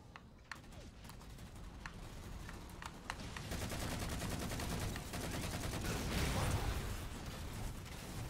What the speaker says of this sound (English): Oh, they're trying to shoot me.